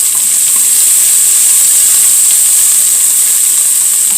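Onions sauteing in a hot pan on a homestead stove, a loud, steady, close sizzle and hiss that runs unbroken throughout, with no voices.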